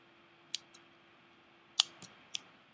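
Scissors snip through a bundle of wrapped yarn loops while making a pom-pom, giving three short, crisp cuts close by in a quiet room.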